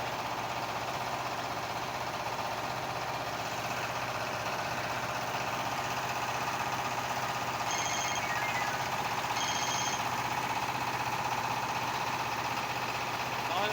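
A trawler boat's engine runs steadily at sea, a continuous droning rumble with a knocking texture at moderate distance, joined briefly midway by two short high tones.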